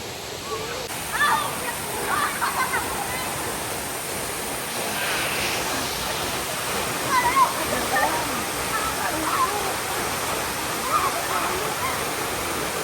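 Tam Nang waterfall in Si Phang Nga National Park, Thailand, roars as a steady, dense rush of falling water, with faint voices of visitors nearby.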